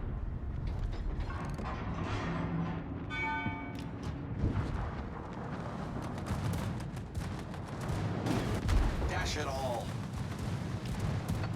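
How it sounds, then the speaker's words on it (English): Ship secondary guns firing in World of Warships, a scattered series of sharp reports over a constant engine and sea rumble, with someone talking throughout. "that ship's within my secondary fire range, so they're starting to fire"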